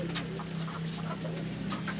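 Madrasi pigeons in a loft coo and murmur in soft, overlapping low calls, close by and continuous over a faint background hum.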